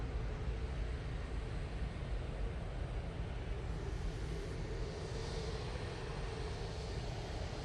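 Faint, steady low roar of an airliner departing Manchester Airport for Alicante, a distant engine rumble holding constant for several seconds with no voices.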